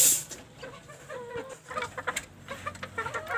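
Young hens, second-generation Pacekan Orienta birds about six months old, cluck softly and repeatedly in a backyard coop, a loose, uneven run of short calls with no talking.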